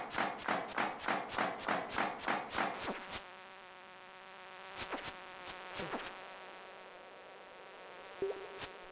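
A buzzing bee in Stardew Valley, a rhythmic series of quick buzzy pulses for about three seconds, then quiet with a few isolated bursts later.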